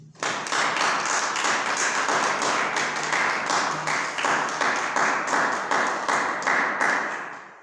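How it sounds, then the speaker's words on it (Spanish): A church congregation claps loudly for Jesus Christ, hands striking together in a brisk, even rhythm of sharp beats that builds quickly and holds for several seconds with no talking. "Un fuerte aplauso a nuestro Señor Jesucristo."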